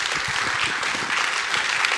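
Warm audience applause fills the room at the close of a panel discussion, a dense steady wash of many hands clapping at even loudness throughout, with no voices over it.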